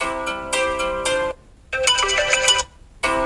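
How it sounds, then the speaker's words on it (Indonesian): A bright, melodic WhatsApp call ringtone on an iPhone plays in repeated bursts with short gaps, clear and close. "ini untuk nada dering telepon WhatsApp"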